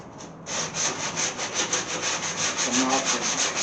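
Board sander working Bondo body filler on a 1929 Chrysler trunk, a steady close rasping scrub with rhythmic back-and-forth strokes that carries on throughout, no talking.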